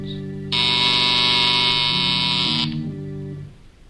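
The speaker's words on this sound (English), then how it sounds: "a buzzer sounds" A loud, steady electronic buzzer blares for about two seconds in an old-time radio drama, cutting in sharply and stopping abruptly over a low background hum.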